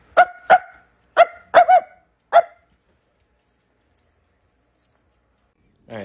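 A dog barks five times in quick sharp bursts, loud and close, followed by near silence and a short final sound at the end.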